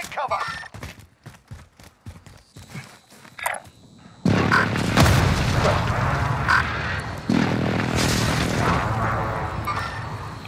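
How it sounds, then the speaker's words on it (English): Precision airstrike explosions in Warzone on Rebirth Island: scattered footsteps and thuds give way to a sudden loud blast, then a continuous rumbling barrage with further bursts, and a voice speaks briefly. "Enemy precision airstrike. Take cover."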